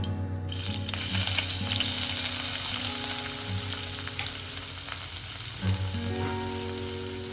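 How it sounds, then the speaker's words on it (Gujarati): Onions fry with toasted mustard seeds in a pan, a dense, loud, steady sizzle with a faint underlying hum and no voices. "ત્યાર પછી હવે આપણે ઓનિયન એડ કરીશું"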